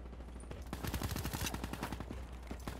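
Call of Duty gunfire crackles in rapid automatic bursts, loud and continuous over steady game background noise, with no speech.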